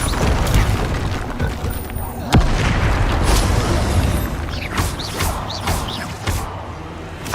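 Explosive spell blasts in the video game Hogwarts Legacy, one sharp loud boom standing out amid dense, continuous combat noise, with smaller bursts and pops through the rest of the fight and shouted spell voices mixed in.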